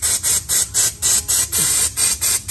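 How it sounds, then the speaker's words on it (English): Brake cleaner sprayed in quick repeated bursts onto a car wheel hub during a brake rotor and ceramic pad job, a series of close, loud hissing blasts, about nine in a steady rhythm with no talking. "Now, I'm going to use this brake cleaner"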